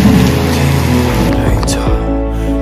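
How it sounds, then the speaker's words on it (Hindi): Heavy rain pours down outdoors with a dense, loud hiss mixed with engine rumble from a nearby vehicle, over a couple of seconds with no words spoken. "और अचानक से देखो बारिश भी आना शुरू हो चुकी है"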